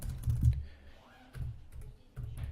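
Keys clatter on a computer keyboard as a chat reply is typed, short clustered bursts of close clicking separated by brief pauses.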